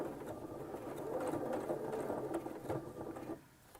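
Sewing machine stitching the mitered corner of a fabric napkin with a presser foot, a steady close mechanical whir and needle patter that runs without pause and stops near the end.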